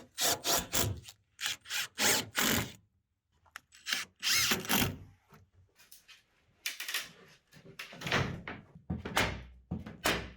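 Screws are driven at an upward angle into a wooden floor beam during renovation of an old tatami room, heard as a series of loud, short grinding driver bursts separated by brief pauses.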